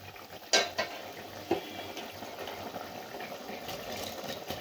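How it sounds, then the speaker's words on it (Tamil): Water boils steadily in a pot before rice is added for mushroom biryani, with a continuous bubbling hiss, and a couple of metallic clinks ring out early on. "பாருங்கள், நல்லா கொதிக்குதுங்க."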